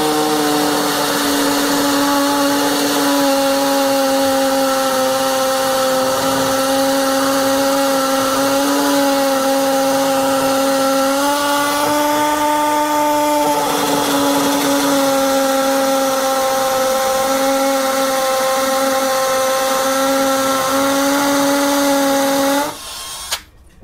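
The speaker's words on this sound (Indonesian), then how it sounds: "Saya menggunakan mode hammer speed 2. Saya akan mengebor 2 lubang untuk pemasangan stopper pintu." A Bosch GSB 120 Li cordless drill running in hammer mode at speed 2, boring holes into a masonry wall for a door stopper, holds a loud steady whine for over twenty seconds before stopping abruptly.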